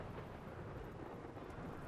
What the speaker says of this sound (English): Well, at least it's raining.